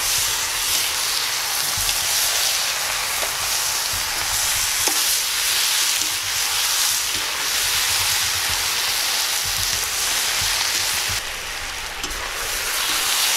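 Chicken legs, vegetables and tomatoes sizzle steadily in a frying pan, a continuous loud hiss with faint scraping and stirring knocks scattered through it, no voices heard.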